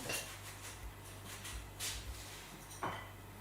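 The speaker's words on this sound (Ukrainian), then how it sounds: "Кабачок буду нарізати в цю миску, розділяю на 4 частини, додаємо серцевину." A knife cuts a zucchini into pieces over a bowl in a home kitchen, giving quiet scattered taps, clinks and knocks with no speech.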